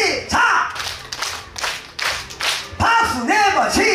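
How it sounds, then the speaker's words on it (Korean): A crowd at an outdoor Korean festival performance claps together in short, sharp bursts, loud and near, while a performer's voice and music carry over the applause. "다 같이 박수 다섯 번 시작"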